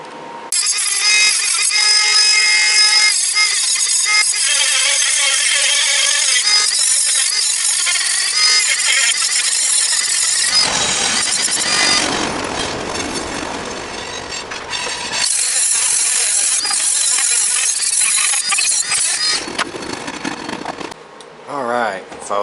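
A Dremel rotary tool grinds and carves a built-up weld on a locked-up transaxle input shaft, a loud, sustained high whine with shifting pitch and brief dips across the whole stretch.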